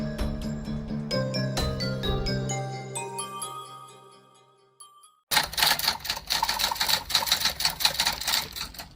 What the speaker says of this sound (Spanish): El sonido de una máquina de escribir